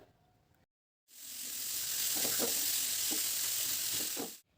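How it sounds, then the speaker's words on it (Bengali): Chopped onion and carrot frying together in a pan, a steady close sizzle rising after a short silence, with soft stirring scrapes breaking through and no voices. "পেঁয়াজ আর গাজরটাকে একসাথে ভেজে নিতে হবে"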